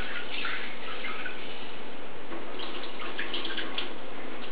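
Tap water runs steadily into a sink while lima beans are rinsed in a kitchen, a continuous close splashing wash with some brighter spattering bursts and no talk.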